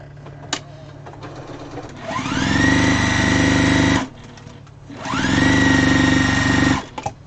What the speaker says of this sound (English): Let's sew this piece down here.